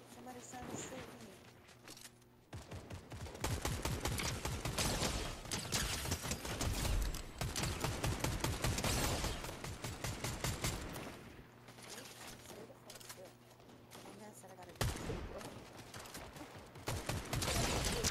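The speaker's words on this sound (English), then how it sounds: "Somebody's trying to shoot me." Gunfire in the video game Fortnite, dense rapid volleys of shots with brief gaps, fairly quiet overall, with a person talking over parts of it.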